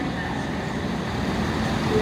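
Big truck pulling up and backing into a parking spot behind a parked car, heard as a steady low engine and traffic rumble filling the whole stretch, moderately loud with no clear change.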